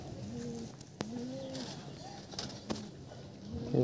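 An old-lineage Shia desi pigeon coos in its loft, several short soft calls in a loose rhythm, close by, broken by a few sharp knocks and rustles, with faint voices in the background.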